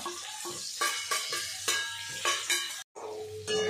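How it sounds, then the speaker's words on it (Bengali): Spice powder being stirred into hot oil for an olive pickle, a sizzling hiss cut by repeated rhythmic spoon strokes roughly every half second, close, with one short silent gap near the end. "মিশিয়ে নিলাম মশলাটাকে।"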